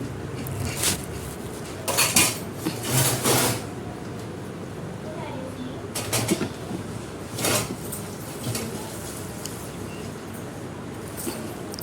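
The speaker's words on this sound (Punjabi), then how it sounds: "ਭਾਂਡੇ ਆਪਾਂ ਨੇ ਮਾਂਜ ਲਏ ਨੇ" Dishes and pots clatter in sharp bursts, with scattered clanks and scrapes spaced apart, under a steady background of room noise.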